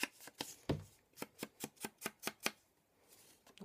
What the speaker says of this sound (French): j'encre les bords de mon papier.